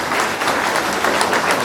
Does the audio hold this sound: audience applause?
yes